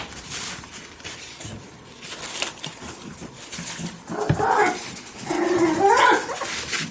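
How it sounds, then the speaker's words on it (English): Dogs bark and whimper somewhere in the house, a few bursts under background noise at moderate distance, growing louder toward the end. "You hear my dogs in the background going at it."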